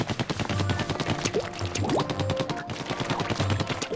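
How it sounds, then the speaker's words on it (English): Burst bombs explode on contact in Splatoon, a rapid string of sharp pops and splats mixed with gushing ink and game music. "burst bombs explode on contact, and they use much less ink"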